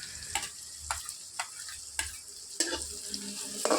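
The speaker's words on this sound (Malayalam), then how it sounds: "ഉള്ളിയുടെ ഒപ്പം തന്നെ നമ്മൾ അരിഞ്ഞു വെച്ചിരിക്കുന്ന ഇഞ്ചി കൂടി ചേർത്ത് കൊടുത്ത് നല്ലപോലെ ഒന്ന് വഴറ്റിയെടുക്കാം" Chopped onion and ginger sauté in a pan for bitter gourd theeyal, with a soft continuous sizzle broken by repeated scraping stirs at irregular intervals, close and moderately quiet.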